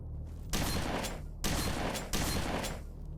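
Three close, heavy shotgun blasts ring out in S.T.A.L.K.E.R. Anomaly, each a sharp boom with a long ringing tail, spaced roughly a second apart with quiet before and after.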